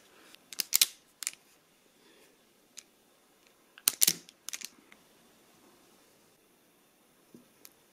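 Small snipping clicks from cutting thin wire for a Halloween hedge-eyes project, heard in a few quick clusters with quiet gaps between, close and fairly faint.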